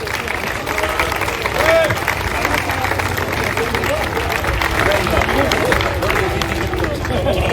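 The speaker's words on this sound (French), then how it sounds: "Vos applaudissements très riches, très nourris pour Monsieur Jean-François Ganva" A crowd applauds the runner-up at an outdoor hill climb podium ceremony in Turckheim-Trois Epis, with sustained clapping and murmuring beneath a loud announcer's voice throughout.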